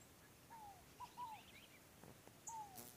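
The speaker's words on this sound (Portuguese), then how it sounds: "Passarinho cantando." A small bird sings a few short, thin whistled notes, faint and spaced apart, over a quiet outdoor background.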